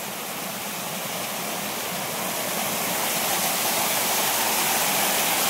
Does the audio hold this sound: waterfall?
yes